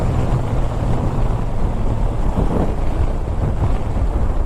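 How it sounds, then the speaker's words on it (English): Steady wind buffets the microphone, a constant low rumbling roar with gusty fluctuations throughout and no other clear sounds. "it's a bit windy around here."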